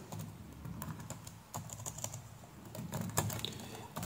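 Someone types into a Chrome browser on a computer keyboard, a quiet, steady run of soft key clicks at an uneven pace, close up with a low background hum and no talk.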